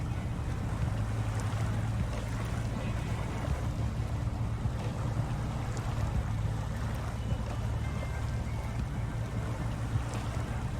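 The engine of a swamp vehicle runs in the SnowRunner video game with a steady, continuous low rumble under a rushing, wind-like wash. It holds at an even loudness throughout, and no one speaks.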